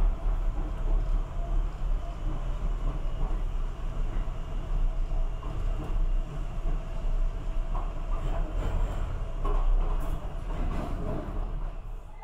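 Steady rumbling rail noise from inside a Docklands Light Railway train near Canary Wharf in London, a continuous low drone with faint rattles and clicks and no speech.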